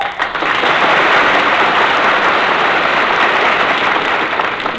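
A 1944 radio comedy studio audience breaks into loud, sustained applause, a thick, even roar of many clapping hands that holds steady throughout without speech.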